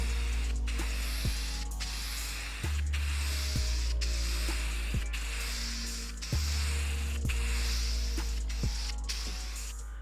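Spray gun applying wet coats of paint, held about 12 inches from the surface in continuous passes, giving a steady broad hiss that runs almost unbroken with brief pauses and low thumps between strokes.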